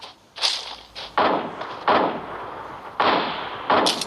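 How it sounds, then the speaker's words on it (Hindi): Grenade explosions and gunfire in the video game PUBG, heard as a series of loud, sharp booming blasts at irregular intervals, about five or six, each with a short decaying tail. "ऐसे मैं ग्रेनेड्स फेंक रहा हूँ उन पे"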